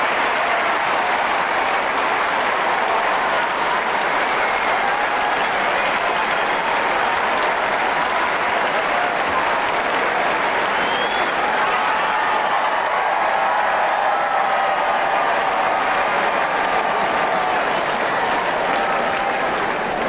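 Loud, sustained crowd applause and cheering fill Wimbledon's Centre Court during a tennis semi-final, a dense steady roar of clapping that runs unbroken for the whole stretch with no talk over it.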